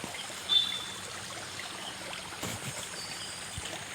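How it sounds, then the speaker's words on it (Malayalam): A small stream running low after scant rain trickles faintly and steadily in the open, a soft continuous wash of water with one brief louder splash near the start. "തോട്ടിൽ വെള്ളം കുറച്ചുണ്ട്"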